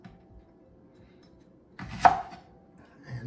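Knife slicing a leek on a cutting board, a single sharp cut after near silence, followed by a brief scrape and light knock of the board.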